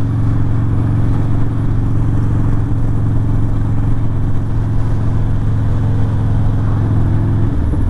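A Harley-Davidson Sportster 48 fitted with a Two Brothers exhaust pulls hard in third gear, its loud, deep, throbbing V-twin note held steady and close, with a slight rise in pitch near the end.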